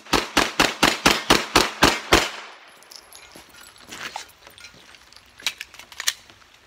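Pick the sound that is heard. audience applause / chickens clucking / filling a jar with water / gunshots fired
gunshots fired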